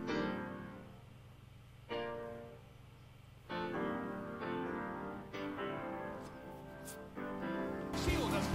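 An isolated piano part extracted by AI from a song, with distinct chords struck every second or two over a murky low background hum, the notes ringing and decaying, somewhat smeared and artifact-laden.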